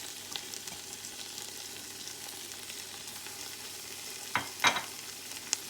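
Grated carrots hiss and crackle in a hot pan of vegetable fried rice, a close steady sizzle broken by a few sharp clacks of a utensil stirring near the end, with no voices.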